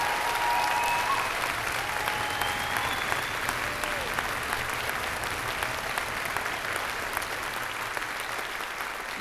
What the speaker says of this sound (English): give another round of applause for these musicians, singers, and these cadets here with us this evening